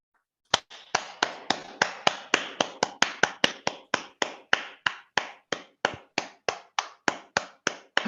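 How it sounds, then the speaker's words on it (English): A single person claps steadily and close up, about twenty-five crisp, evenly spaced claps in a quiet room, with no other sound between them. "let's just unmute and give you a round of applause"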